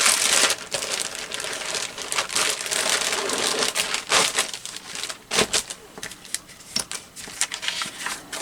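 A letter-size sheet of paper is folded for a handmade journal, giving steady crinkling and rustling with sharper crisp creases, close and fairly quiet throughout.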